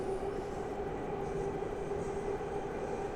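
A metro train in a metro simulator video game runs with a steady, continuous rumble and a sustained tonal hum, heard alone at moderate level.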